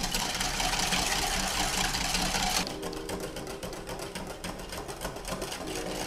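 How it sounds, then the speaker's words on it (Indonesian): An electric mixer whips cream with sugar and vanilla extract, giving a steady mechanical whir that shifts pitch partway through as the speed or thickness changes. The whirring runs alone and close, with no voices. "kita akan kocok krim dan gula dan juga si vanilla extractnya sampai dia itu soft peak aja cukup"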